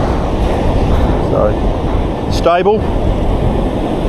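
Ocean waves crashing on a beach of saturated wet sand roar as a loud, continuous wash, with wind buffeting the microphone and a brief electronic beep from a metal detector; someone speaks briefly over it.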